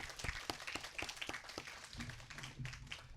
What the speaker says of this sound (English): One more round of applause for Henry and Clarissa, please.